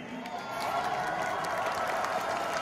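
At an outdoor New Year's Eve concert in Sarajevo, a crowd breaks into applause that swells after a brief lull and continues as a steady, moderately loud clapping wash, heard from within the audience.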